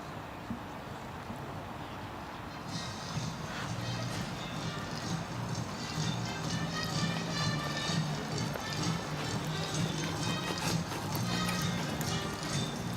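A horse's hooves beat in an even, rhythmic clip-clop on the footing of a para dressage arena at a world championship, moderately close, with a commentator talking over them and a soft crowd murmur behind.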